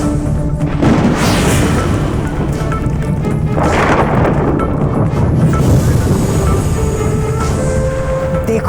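A magical explosion in a fantasy battle with fairies and a tiger, heard as a loud sustained roaring burst with rumbling booms and swelling noise surges over about nine seconds.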